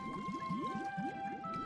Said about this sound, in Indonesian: Paus raksasa,